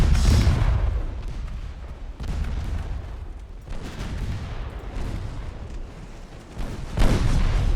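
Warship guns firing in the naval battle game Ultimate Admiral Dreadnoughts, a series of heavy booming salvos at irregular intervals, loud blasts rolling into long rumbling decay, with a big shot near the start and another near the end.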